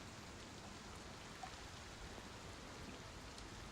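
Steady rain falling as ambient background in a Call of Cthulhu tabletop roleplaying session, a soft, even hiss of drops that carries on without a break.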